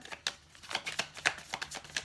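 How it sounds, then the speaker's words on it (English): A heavy deck of tarot cards is shuffled close up, giving a series of soft papery riffles and slaps in an uneven rhythm, with no talking. "This deck of cards are a little bit more difficult to shuffle with than the other ones because they're a bit heavier."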